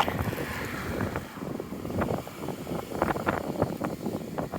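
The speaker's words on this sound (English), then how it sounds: "And it's windy up here." Strong wind buffeting the microphone outdoors on the streets of Dartmouth, gusty low rumbling and bursts rising and falling continuously, no voices.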